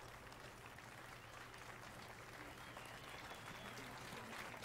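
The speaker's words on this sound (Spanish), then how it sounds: "Está aplaudiendo porque se ha callado y todo." Steady applause from a crowd in the video game The Witcher 3, continuous and fairly even throughout, with a faint low hum underneath.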